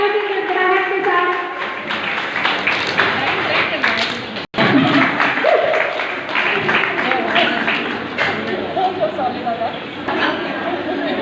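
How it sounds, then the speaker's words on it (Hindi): Audience clapping at a women's mahapanchayat gathering in Indri, Karnal, continuous and fairly loud, mixed with crowd chatter and voices throughout, with a brief dropout midway. "तालियां बजाते रहिए, तालियों की गड़गड़ाहट के साथ।"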